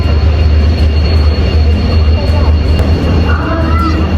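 Duronto express train passing, a loud, steady low rumble with constant wheel roar heard close by for the whole stretch.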